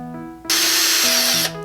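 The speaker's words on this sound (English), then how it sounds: "Now I'm gonna drill some pilot holes" A power drill whirs as it bores pilot holes through pallet wood, a loud, bright burst of about one second that starts and stops sharply, with motor hum around it.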